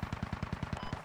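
Rapid machine-gun fire in the multiplayer shooter game Forlorn Hope, a steady burst of about ten evenly spaced close shots with no talking.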